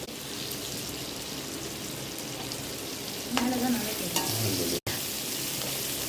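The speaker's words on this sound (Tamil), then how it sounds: "மூன்று வெங்காயம் நல்லா வதக்கிக்கணும்" Three onions are sautéed in a pan for a mango and coconut milk fish curry, a continuous close frying hiss with a brief clatter of stirring partway through and a momentary dropout near the end.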